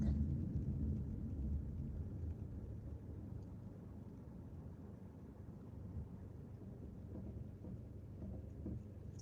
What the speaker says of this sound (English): Here comes the rain, man.